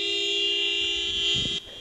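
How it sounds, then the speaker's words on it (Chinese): The horn of a burning silver car sounds in one continuous blaring tone outdoors, loud and steady, with a brief crackle and thump before it cuts off near the end. "刺耳的喇叭声不停作响"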